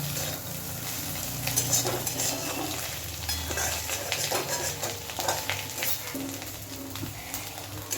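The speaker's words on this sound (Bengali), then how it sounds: "কাঁকরোলটা দিয়ে ডিম পেঁয়াজ সব কিছুর সাথে খুব ভালো করে আরও মিনিট 2-3 সময় নিয়ে ভেজে নেব।" Kakrol, a bitter gourd, frying with egg and onion in a pan, a dense steady sizzle with frequent scraping stirs and light utensil knocks, close and continuous, no talking.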